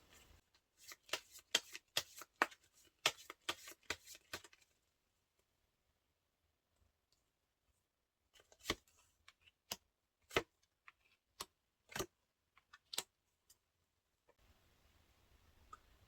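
Tarot cards are shuffled close by in a rapid flurry of crisp riffling taps, then after a quiet gap come scattered single card flicks and snaps, ending on soft rustling.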